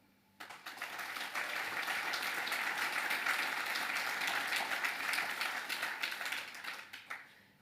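An audience at a 2024 New Year's address in Saint-Jean-de-Monts breaks into applause, dense clapping that swells quickly, holds steady and loud, then tapers near the end.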